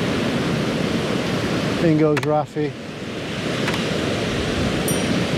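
Sea surf washes in on a shore as a loud, steady broadband roar of breaking water close by, with a brief spoken phrase partway through.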